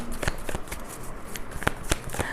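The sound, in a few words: shuffling an Osho Zen tarot card deck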